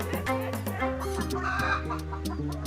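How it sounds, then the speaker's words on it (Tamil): Several chickens cluck and squawk close by in a steady, busy chorus, with overlapping calls throughout. "எவ்வளோ கோழி இருக்கு"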